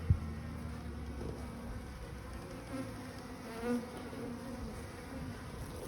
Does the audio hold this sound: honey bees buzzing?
yes